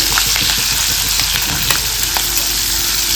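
Chopped green chillies sizzling loudly in hot oil for a pickle, a dense constant hiss with light clicks of stirring throughout, close and steady with no talking.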